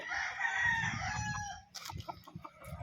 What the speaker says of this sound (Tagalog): Ayan yung mga sisiw ni John Ray